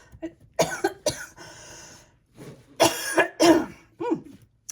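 Several harsh coughs in short bursts, two close together early, then a cluster of louder coughs later, close to the listener with no talking.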